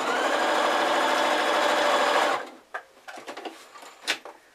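Sewing machine stitching down the side of a drawstring fabric sack: a steady, fast whirring run that stops abruptly, followed by a few quiet clicks and handling knocks, close and without talk.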